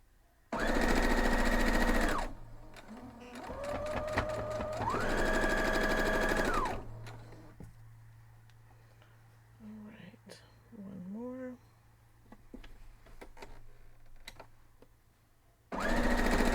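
A sewing machine stitches quilt block pieces for a Flying Dutchman block in two loud bursts of steady mechanical whirring, with quieter handling sounds and soft talk between runs and another burst starting at the end.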